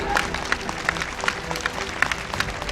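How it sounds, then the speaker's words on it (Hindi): Audience clapping at a political rally, a scattered run of hand claps sounding at a steady rhythm under a murmuring crowd. "अरे ताली बजाओ"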